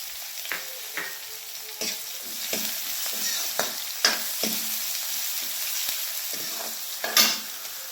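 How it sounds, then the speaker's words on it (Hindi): Chopped onion goes into golden garlic in a hot pan, sizzling and frying steadily while a spoon stirs and scrapes in repeated strokes, close up with no talking. "अब हमारा लहसुन गोल्डन हो गया है, तो अब मैं इसमें डाल दूंगी प्याज।"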